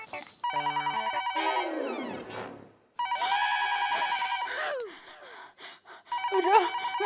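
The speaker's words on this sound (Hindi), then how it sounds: "ये फोन की घंटे की आवाज से बापूजी ना उठ जाए कहीं।" A telephone bell rings in repeated bursts, loud and close, with short pauses between rings and a brief vocal sound near the end.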